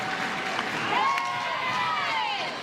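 A sellout softball crowd in Portland cheers for the pitcher at a night game, a steady broad roar with shouts and whistles rising through the middle and holding to the end.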